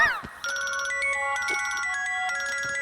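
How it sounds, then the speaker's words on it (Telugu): A mobile phone ringtone plays at midnight, a bright electronic melody ringing steadily and close after a short opening chirp, with no talking. "అర్ధరాత్రి పూట ఫోన్ ఏంట్రా?"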